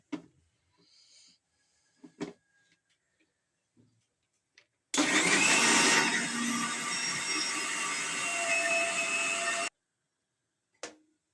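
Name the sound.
mixer grinder blending leaves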